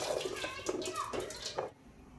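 Water drains from boiled figs through a perforated basket, splashing and trickling steadily for under two seconds before stopping abruptly.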